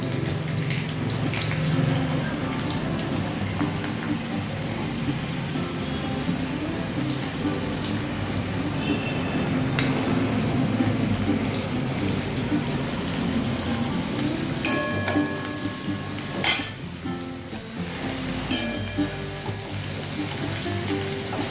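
Pointed gourd (potol) frying in a pan with green chillies for a Bengali aloo potol dish, a steady loud sizzle running throughout, with a few sharper clinks and stirring scrapes near the end.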